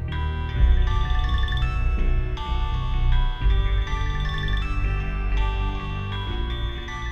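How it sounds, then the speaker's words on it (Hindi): An incoming call rings out as a repeating electronic ringtone melody in a Pakistani TV crime drama, chiming steadily for about seven seconds over a low background hum, with no voices. "माँ ये फिरोज खबीज ताया का फोन आ रहा है"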